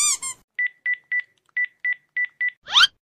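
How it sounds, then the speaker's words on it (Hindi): A phone number is dialed as a quick series of eight clear keypad tones in an even rhythm, bracketed by brief rustling handling noises. "तू उस नंबर से जरा फोन लगा के देख उठाती है क्या।"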